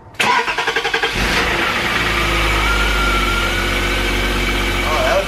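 A BMW E34 with an S52 engine, just back together after a VANOS rebuild, cranks with rapid rhythmic pulses for about a second, catches, and settles into a steady, loud, close idle.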